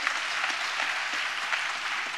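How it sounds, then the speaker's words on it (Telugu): A church congregation clapping together during a pastor's sermon, a soft, steady wash of many hands heard at a distance, fairly faint and unbroken. "చప్పట్లు కొడుతూ స్తోత్రాలు చెప్దాం"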